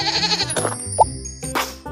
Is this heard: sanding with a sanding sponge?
no